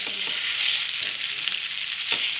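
Boiled potatoes stirred in a hot frying pan for aloo kachori filling, producing a loud, close, steady sizzle with a few soft scraping stir strokes.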